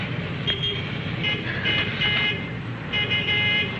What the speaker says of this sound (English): There's my bus now.